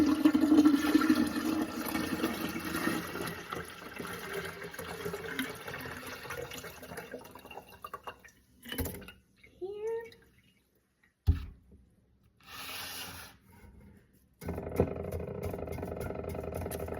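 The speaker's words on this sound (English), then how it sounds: "So I just pour it into the starter tea." Rooibos kombucha pours from a jar into starter tea, a close, steady splashing trickle that runs for several seconds, then breaks into short gurgles and pauses before a final stretch of pouring.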